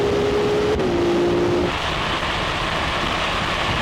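A Porsche 911 Turbo S or Ferrari 296 approaches during a drag race, a loud engine tone holding and then dropping as the car nears, followed by a broad rushing roar.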